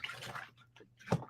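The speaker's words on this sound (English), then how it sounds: "I'm going to put that stamp in my soapy water" A craft stamp dropped into a dish of soapy water, a short gentle slosh and splash followed by a brief watery plunk, quiet and close.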